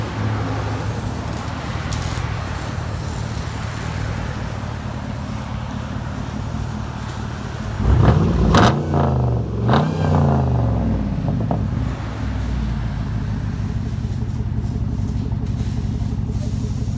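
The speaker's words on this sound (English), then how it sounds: "Straight pipe all the way. 2011 Camaro SS. With blue flame double wall tips." A 2011 Chevrolet Camaro SS with straight-pipe dual exhaust and double-wall tips idles with a rough, rumbling burble, then revs sharply twice around the middle before settling back, heard close with people talking nearby.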